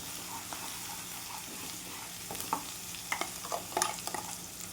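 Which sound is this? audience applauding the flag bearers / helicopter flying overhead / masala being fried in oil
masala being fried in oil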